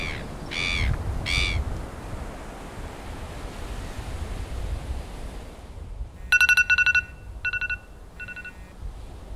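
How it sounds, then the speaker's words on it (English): Calm ocean wash and a couple of crow caws at first, then an electronic phone ringtone chirps in short repeated bursts nearby. "Hey, that's your phone."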